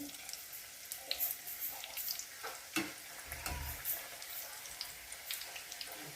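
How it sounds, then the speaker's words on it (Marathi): Karanji, sweet stuffed pastries, deep-fry in hot oil with a soft, steady bubbling sizzle and scattered light pops. A few louder clinks of a utensil come through, all fairly quiet and close. "मस्त असा लालसर थोडा लालसर रंग येईस्तोपर्यंत तळून घ्यायचे"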